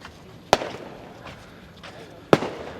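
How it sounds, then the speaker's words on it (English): Fireworks go off at night over Sanur Beach as two sharp, distant bangs about two seconds apart, each trailing a short crackle above a low ambient background. "Oh, fireworks."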